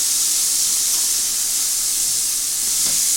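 Cluster beans sautéing in hot oil for a South Indian gravy, a steady loud sizzling hiss that holds evenly throughout with a faint clink near the end.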